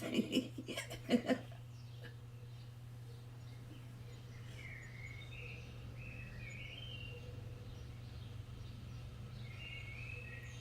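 Faint morning birdsong outdoors, scattered distant chirps and short warbles over a steady low hum, after a few soft knocks at the start.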